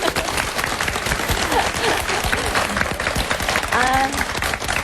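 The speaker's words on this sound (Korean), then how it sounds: "이쯤에서 박수를 한번" Audience applause on a Korean broadcast program honoring a 48-year-old army reservist, with dense, steady clapping throughout, crowd noise mixed in, and brief voices or whistles toward the end.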